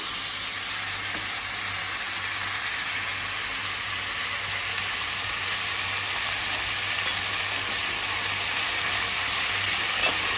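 A mango mixture with turmeric fries in a pan, a dense, even hiss of sizzling oil that holds steady throughout, with only faint stirring clicks.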